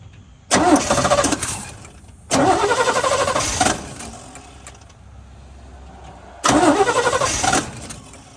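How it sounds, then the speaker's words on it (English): The engine of a 1967 C10 truck is cranked three times by the starter, each a loud rhythmic whirring churn lasting one to two seconds without catching, with quiet pauses between. "Every time you crank it, it moves the distributor because the motor's moving."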